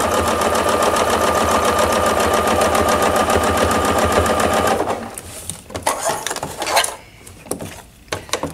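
A sewing machine runs steadily at close range for about five seconds while stitching ruler work on a quilted table runner, then stops, leaving scattered handling clicks and light knocks.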